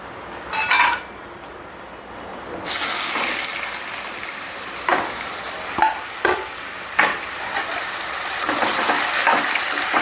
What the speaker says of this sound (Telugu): దీంట్లో కొన్ని జీడిపప్పులు, మష్రూమ్ లైట్గా ఫ్రై చేసుకుందాం